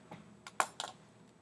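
Calculator keys are pressed in a short run of about four quick, light clicks, close and faint, against a quiet background.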